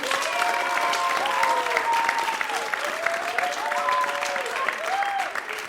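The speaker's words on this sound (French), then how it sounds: "Notre roi du ciel, Zeus, qui a très bien joué son rôle aussi, peut être applaudi." Audience at a primary school play applauding a child performer who played Zeus, sustained applause throughout with a few voices singing or calling out over it.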